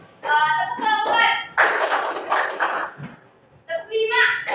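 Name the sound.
children clapping hands in a clapping game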